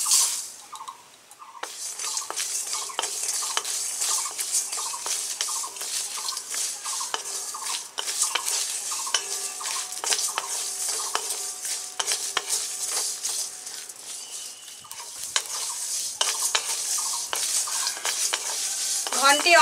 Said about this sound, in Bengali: সব কিছু একসঙ্গে একটু গরম কড়াইতে নেড়ে দেব।